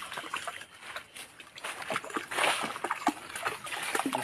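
A dog swims through a stream in the mountains of Polillo Island, making soft, intermittent splashes and water sloshing, fairly quiet and close.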